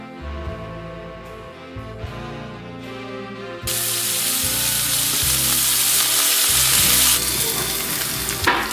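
Burger patty frying in a pan, first soft sizzling under quiet background music, then a sudden loud burst of hissing sizzle as the patty is flipped onto its salted side, continuing strongly to the end.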